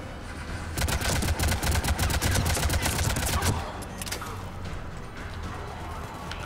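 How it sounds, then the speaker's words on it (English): Rapid bursts of automatic gunfire from the Mass Effect 3 video game rattle loudly for about three seconds, then drop to quieter, sparse shots and background combat ambience. "Who are you shooting at?"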